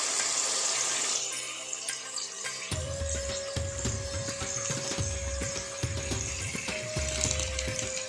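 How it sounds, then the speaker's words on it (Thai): Water pours steadily into a pot of stir-fried meat during home cooking, a continuous splashing rush that begins about a third of the way in and runs to the end with no speech. "ใส่น้ำลงไป"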